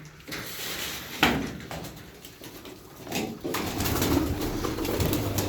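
Tumbler pigeons from a single loft coo softly in a cluster of about fifteen birds, with occasional wing flutters and rustling close by and a low, steady background.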